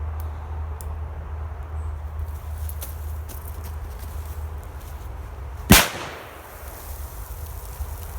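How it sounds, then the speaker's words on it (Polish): A single sharp firecracker bang cracks out near the end as it explodes in sand, loud and close, after a long stretch of quiet outdoor background noise. "tu już była mniejsza eksplozja piasku niż poprzedniej petardzie"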